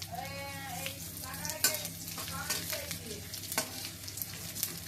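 Cardamom, cinnamon and white cumin sizzle in hot oil in a pan, a steady crackling fry with sharp pops and spoon stirring, close and moderately quiet.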